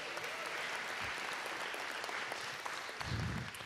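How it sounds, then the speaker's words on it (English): An assembly audience at a synod gathering claps in a moderate, steady wash, fairly distant and even throughout, with a brief low thump near the end. "Can we get an applause for that?"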